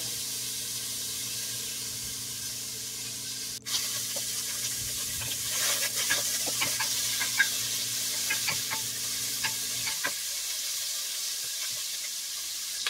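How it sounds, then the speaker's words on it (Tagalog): Pork sautés in a little olive oil for a Bisaya-style mung bean soup, hissing steadily while a utensil stirs and scrapes the pan. A sharp click comes near the start, and a low background hum stops partway through, with no voices. "Gigisa tayo ng pork. Lagyan ko siya ng kunting olive oil."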